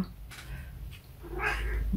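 A cat gives a short, close meow or yowl near the end of a quiet indoor moment, with faint background noise before it.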